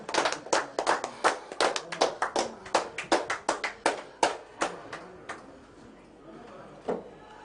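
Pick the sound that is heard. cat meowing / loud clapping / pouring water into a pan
loud clapping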